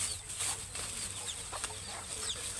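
Chickens cluck softly and intermittently at feeding time outdoors, with a few rustles and wing flaps over a steady background hum.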